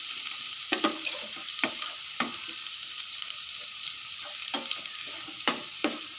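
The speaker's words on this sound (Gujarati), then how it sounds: "एमां आपणे पेला लसणवाળी चटणी एड करी दईशुं અને તેલમાં સારી રીતના આપણે મિક્સ કરી દઈશું" Garlic chutney being stirred into hot oil in a pan for Kathiyawadi dahi tikhari, a steady hiss of frying broken by sharp scraping clicks of the spoon at irregular intervals.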